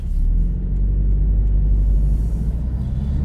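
A Porsche 718 Boxster S engine accelerating on a road in Portugal, a steady loud low rumble that holds strong throughout with a faint rise in revs, heard from inside the car with no talking.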